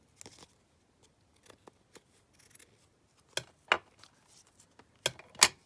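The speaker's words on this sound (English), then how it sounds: "trim that off there" Scissors snip through lace trim in a crafting session, a scattered series of short, crisp cuts that grow louder and sharper toward the end, with quiet pauses between bursts.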